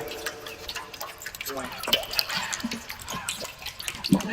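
Liquid trickles and splashes steadily, with small drips, while people talk over it nearby.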